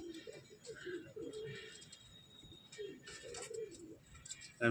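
White sundari pigeons, one a cross with a lakka (fantail), coo softly in short repeated bursts near the listener, with faint chirps and rustling between calls.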